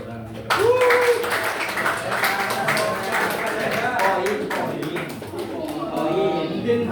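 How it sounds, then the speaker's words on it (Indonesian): A class breaks into applause, a burst of scattered hand clapping that carries on for several seconds under and between voices talking. "Beri tepuk tangan."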